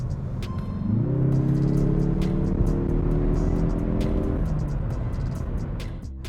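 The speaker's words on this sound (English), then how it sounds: "I don't know if you can hear that exhaust note, but it's nice, it's tuned, it's not obnoxious, it's throaty" A tuned 2021 Mazda3 Turbo hatch's exhaust revs up from a steady idle into a throaty, smooth drone that holds for a few seconds and then eases back, heard close and loud with no talking.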